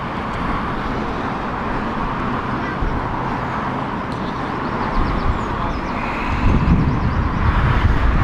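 A Eurowings plane arriving at Heathrow Airport in crosswinds makes a broad engine and wind roar that swells louder toward the end.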